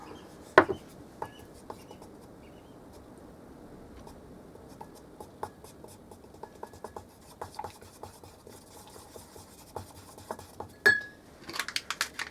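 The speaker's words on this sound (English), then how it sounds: "Stir it up." A brush or stick stirring glitter paint in a small container, with scattered scraping and tapping strokes against the sides, close and fairly quiet, plus a few sharper knocks.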